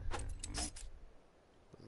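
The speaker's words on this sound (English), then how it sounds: "That was an intense way to pull out scissors." In the Ark survival video game, a character pulls out a pair of scissors with a quick burst of short metallic clinks and rattles, fairly faint and close, fading into quiet room tone.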